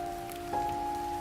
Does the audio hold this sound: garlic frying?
no